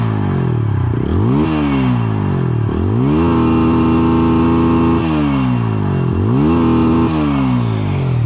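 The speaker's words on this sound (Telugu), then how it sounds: "ఎగ్జాస్ట్ సౌండ్ అయితే కొద్దిగా లౌడ్ వస్తూ ఉంది" A 2025 TVS Apache RTR 160 4V motorcycle exhaust revved repeatedly, close and loud, with sharp rising and falling throttle blips and a longer held rev in the middle, alone without talk.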